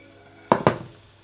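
A metal pot lifted off a hot stove in a home kitchen, two sharp clanks in quick succession against a quiet background, close and distinct.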